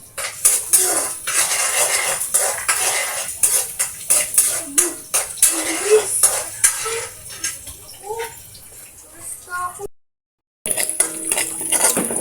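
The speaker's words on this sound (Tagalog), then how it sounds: "igigisa na natin muna tong ating sibuyas at saka bawang" Chopped onion and garlic being sautéed in a pan for a kangkong dish, with a metal utensil clinking and scraping repeatedly against the pan over light sizzling and a brief dropout near the end.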